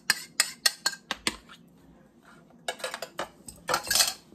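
Spoon clinking and scraping against a bowl while banana bread batter is stirred, a quick run of sharp rhythmic clicks, a short lull, then another burst of close, busy stirring.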